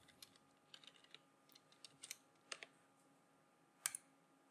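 Quiet, close typing on a computer keyboard while entering a search term: a few irregular soft key clicks in short bursts, with one slightly louder tap near the end over faint room hum.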